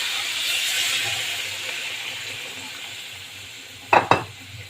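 Spice masala fries in a pan with a steady sizzle and stirring; near the end water is splashed in at the side, bringing two sharp hissing bursts.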